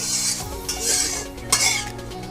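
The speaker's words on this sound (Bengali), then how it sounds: "এটাকে একটু হালকা একটু নাড়াচাড়া করে নেব তেলে" Cardamom, cloves and cinnamon pieces being stirred in hot oil in a pan: a steady close sizzle with a few metallic scraping strokes of the spatula.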